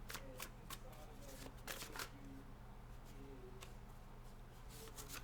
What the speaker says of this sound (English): you saw me just shuffling, right?